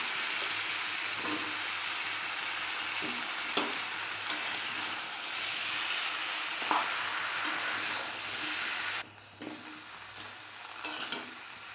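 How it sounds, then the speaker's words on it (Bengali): Malabar spinach is tossed into a pan of spices, shrimp and mixed vegetables and sizzles steadily, with occasional soft stirring scrapes. The sizzle is even and moderately quiet, then drops suddenly near the end. "এবার আমি পুঁই শাকগুলো দিয়ে দেবো।"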